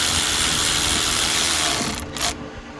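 A hand ratchet tightens a bolt during a knock sensor install on a 2012 Acura TL V6 engine, giving a continuous close mechanical clicking and grinding that trails off near the end.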